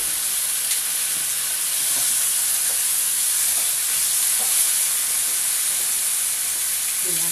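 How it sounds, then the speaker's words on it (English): A steady, bright hiss of bacon sizzling in a hot pan, continuous and even, with faint clicks and pops scattered throughout. "you can tell from the sizzle that the pan's hot"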